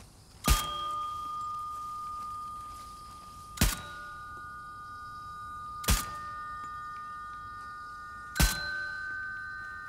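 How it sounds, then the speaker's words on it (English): Four loud bell strikes ring out in the video game Uncharted: The Lost Legacy, evenly spaced a couple of seconds apart, each leaving a bright tone that lingers between hits. "That's a bunch of bells, and it's really loud."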